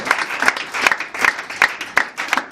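Congregation at a church worship service clapping in a steady rhythmic beat, roughly three claps per second, fairly close and lively, with some voices mixed in.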